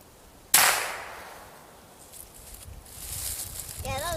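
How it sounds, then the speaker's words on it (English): A single sharp crack from a Cricket .22 youth rifle fired at a target rings out near the mic, then fades into quiet outdoor ambience with faint rustling; a brief whistly sound follows near the end. "it's the slow squeeze backwards until the rifle goes off"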